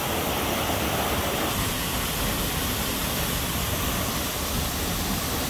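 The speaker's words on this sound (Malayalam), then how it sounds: "അടിപൊളി അടുത്തൊരു വെള്ളച്ചാട്ടം" A nearby waterfall roars as a steady, dense wash of rushing water, constant and loud throughout with no breaks or voices.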